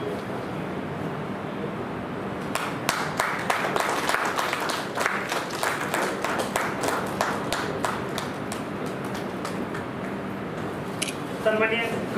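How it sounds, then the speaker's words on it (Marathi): At a Shravan poetry gathering in Chakan, an audience gives lyricist and journalist Haridas Kad a loud welcome: steady, dense clapping for about twelve seconds, with a few sharp individual claps standing out near the end. "जोरदार टाळ्या वाजवून आपण गीतकार कड सरांचे स्वागत करूया"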